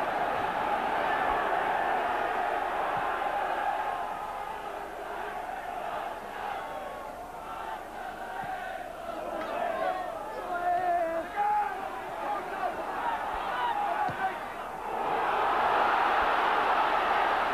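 A football crowd in a stadium at a 1985 Barnsley v Portsmouth match roars continuously, a broad wall of chanting and cheering that dips in the middle and then swells again.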